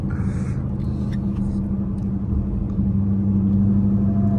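Dodge Hellcat engine on a Miami Beach street, a loud, steady low rumble that swells slightly toward the end, with faint voices in the background.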